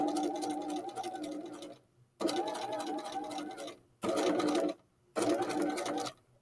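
Sewing machine stitching a seam in four separate bursts, each a steady whirring run of a second or two, separated by short pauses, close and fairly loud with no talking.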